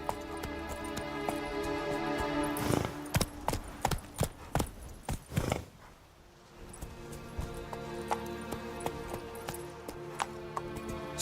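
Horse in The Witcher 3 moving over ground, rhythmic hoof clops with tack jingling, loudest in a cluster of strikes midway, then a brief lull before lighter steps resume over a constant musical bed.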